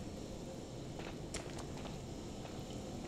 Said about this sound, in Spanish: que algo está caminando